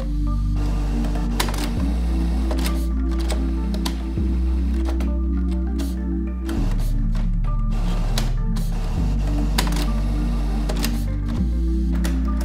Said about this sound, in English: Turning off your printer now.